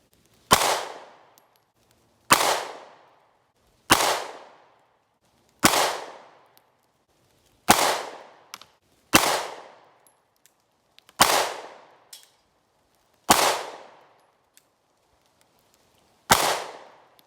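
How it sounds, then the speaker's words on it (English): A SIG P365 pistol fires at a target from about 15 yards: nine loud, sharp, cracking shots spaced roughly one and a half to two seconds apart, each with a short decaying tail in an otherwise quiet outdoor setting. "I'm gonna keep shooting, and I'll aim for the bullet hole."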